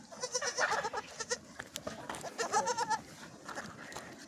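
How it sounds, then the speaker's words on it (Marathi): Goats on a small farm bleat repeatedly at close range, a run of wavering cries that rise and fall in loudness across the clip. "खूप छान आहे शेळी."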